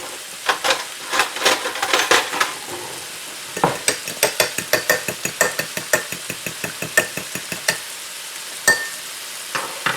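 An egg fries on a griddle with a soft background sizzle, broken by a fast, rhythmic run of spatula taps and scrapes against the hot metal surface, close and fairly loud.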